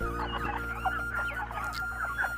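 Month-old broiler chickens on a poultry farm, a flock clucking and chattering in overlapping short calls, steady and close against a constant low hum of farm equipment.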